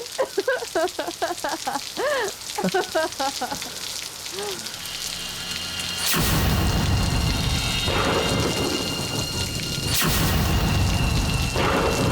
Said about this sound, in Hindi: ओह, अच्छी बारिश हो रही है